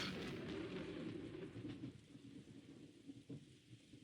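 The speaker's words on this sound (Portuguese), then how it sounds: "Ouviu-se um enorme estrondo de um trovão." Thunder crash from the Umineko visual novel, a loud broad rumble mixed with steady rain that fills the opening seconds, then eases into quieter rainfall with a brief sharp crack near the end.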